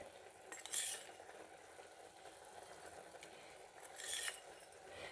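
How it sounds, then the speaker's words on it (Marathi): Methi bhaji with ground peanuts is stirred in a pan, making two faint, brief scraping swishes of a spoon against the metal over a quiet low hiss. "शेंगदाण्याचा कूट ॲड करून ही भाजी पुन्हा एकदा चांगली मिक्स करून घेऊ"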